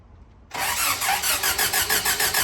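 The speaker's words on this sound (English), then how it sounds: "It's probably just the solenoid kicking back." A car engine cranks and catches at about half a second, then runs loudly with a steady pulsing rhythm, close up and alone.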